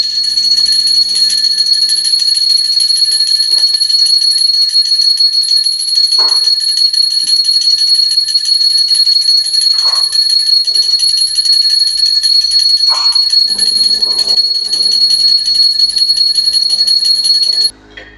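A hand bell rings continuously and rapidly during a Ganesh puja aarti, a bright sustained metallic jangle, with faint voices and sounds underneath.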